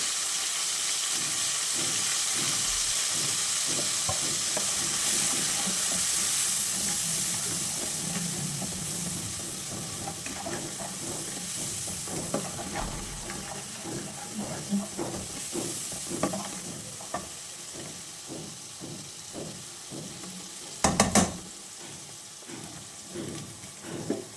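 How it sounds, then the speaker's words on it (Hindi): Onion, green chili and ridge gourd frying in oil with salt, chili, turmeric and coriander powder, a steady close sizzle with repeated stirring scrapes and clinks of a spoon against the pan throughout. "मसाला वग़ैरह भून के तोरी डाल दिए, इसको भी जो है ना थोड़ा-सा भून लेंगे"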